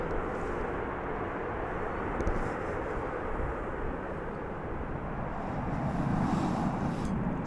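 An American Airlines jet arriving from Austin passes at DFW International Airport, a continuous low rumbling roar with some wind buffeting that swells slightly toward the end.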